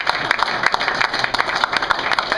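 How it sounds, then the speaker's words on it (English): An audience at a stage show breaks into steady applause, a dense patter of many hands clapping together at close range, loud and continuous throughout without a break. "Let's have a big round of applause for John"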